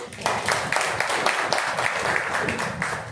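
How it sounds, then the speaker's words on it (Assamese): Applause from an audience at a book launch ceremony, a steady patter of many hands clapping close by for about three seconds with no talk over it. "গতিকে গীতিকাৰ উৎপল বৰকাকতি মই সকলোকে এবাৰ হাত চাপৰি জনাব পাৰোঁ।"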